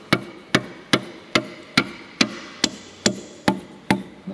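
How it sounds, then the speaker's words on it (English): A rubber hammer taps a cylinder liner down into a John Deere 6090 9.0L engine block during a rebuild, with about eleven sharp, evenly spaced knocks at close range. "we're just going to use this rubber hammer and tap this liner all the way in"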